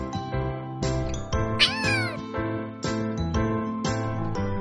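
A cat meows, one drawn-out rising and falling call standing out clearly over a soft sustained musical accompaniment.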